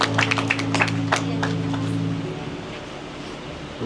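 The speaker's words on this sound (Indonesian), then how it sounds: "Boleh beri tepuk tangan yang lebih meriah." Applause from the congregation at a church wedding blessing, a dense patter of clapping that starts loud and steady, then thins and fades over a few seconds, with a sustained musical tone underneath.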